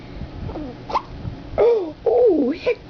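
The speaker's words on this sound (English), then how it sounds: "Oh, hiccup." A baby's hiccups, a few sudden squeaky catches at irregular intervals, close and fairly loud, mixed with small fussing vocal sounds and no speech.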